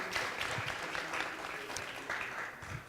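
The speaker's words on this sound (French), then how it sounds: "Des applaudissements, s'il vous plaît." Steady crowd applause at the Consumer Awards ceremony, continuous dense clapping from a large audience that holds at an even level for the whole three seconds.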